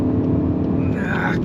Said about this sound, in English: he just wants to wheel spin like crazy